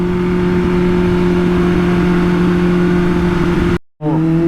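A Kawasaki Ninja H2 motorcycle engine holds a loud, steady hum on a night ride along a city canal road. The sound cuts out briefly near the end, then comes back as the throttle is blipped.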